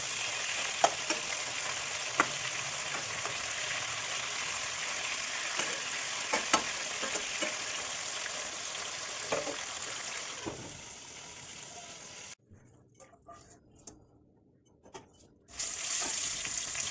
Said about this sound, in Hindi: फिर फ्राई हो गया मेरा कटहल।